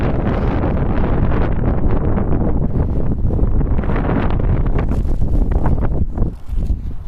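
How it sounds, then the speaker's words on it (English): Cold wind blowing outdoors during a walk, roaring and buffeting loudly against the microphone in continuous gusts, with brief lulls near the end. "I'm braving it out here in the cold and the wind too"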